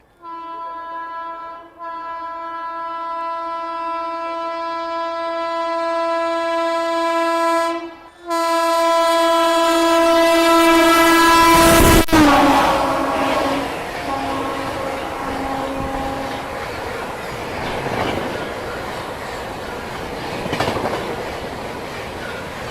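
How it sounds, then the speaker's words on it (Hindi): The MP Sampark Kranti Express passes close by while overtaking a halted Prayagraj Special, sounding a long, loud two-tone horn, then rushing past with steady wheel clatter and rumble that slowly fade. "सामने से आ रही है एमपी संपर्क क्रांति एक्सप्रेस और ओवरटेक करी अपनी प्रयागराज स्पेशल को।"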